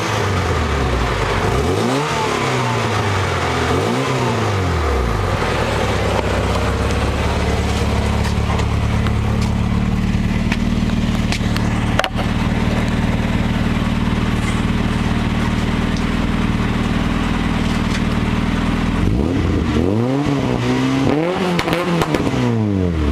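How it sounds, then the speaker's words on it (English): A B20 VTEC engine in a Honda Civic wagon revs through a deep aftermarket exhaust, with rising and falling throttle blips at the start and end around a long sustained high-rev drone, loud and close. "The exhaust is very nice and deep."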